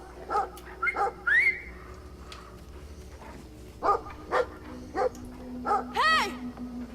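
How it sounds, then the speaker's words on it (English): A big, scary dog in the video game Brothers: A Tale of Two Sons barks in several loud, separate bursts, some with whiny, yelping tones, over a quiet game ambience. "Big scary dog."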